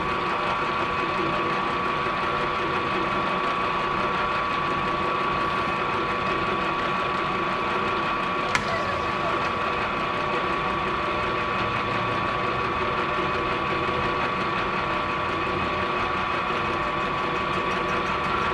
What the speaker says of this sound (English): I'm gonna be running this at 310 RPM. We'll touch off here and we'll take a light skim pass.